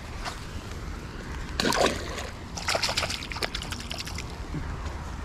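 Water splashes and sloshes close by as a 5-pound largemouth bass is released, in a couple of brief bursts, followed by lighter dripping and trickling.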